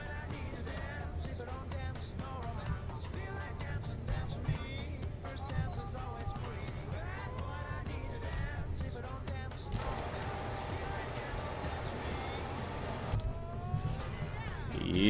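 Engine noise from a trucking video game rises and falls continuously, with revving and passing-vehicle sounds, while a person talks over it throughout.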